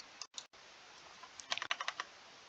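Keys clatter on a computer keyboard with an English layout, a few isolated taps followed by a quick burst of close, crisp keystrokes.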